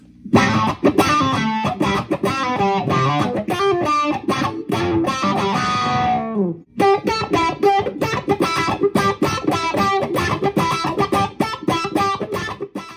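An electric guitar through the envelope filter on a Line 6 M13 plays rhythmic chopped notes with a squelchy, sweeping filter on every pluck; a brief gap midway, then the quacking pattern resumes, loud and close.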